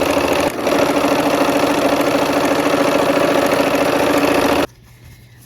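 A sewing machine stitches quilt strip sets in a steady, loud, fast mechanical hum and whir for several seconds, then stops abruptly, leaving near silence.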